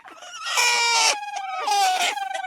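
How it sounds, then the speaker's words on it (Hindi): Brooding hens sitting on eggs in sand on a desi Indian farm give loud, drawn-out squawking calls in two bursts, close by, each trailing off into shorter clucks, with no voices. "और यहाँ पर ये मुर्गियाँ अंडे पर बैठकर चूजे निकाल रही है।"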